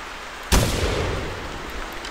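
A single loud shotgun blast in theHunter during a Canada goose hunt, a sharp close report at the start followed by a long rolling echo fading out.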